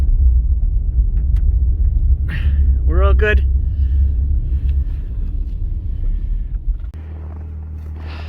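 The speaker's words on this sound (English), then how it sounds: "I will throw it in 4-wheel drive and we'll just crawl right out of here." A pickup truck in four-wheel drive crawls out through deep snow with a steady, heavy low rumble, someone speaking briefly over it, and the engine note dropping to a lighter hum near the end.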